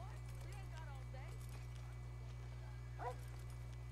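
An American Foxhound in the video game Red Dead Redemption 2 gives brief whimpering yips over a steady low game hum, with people talking around it.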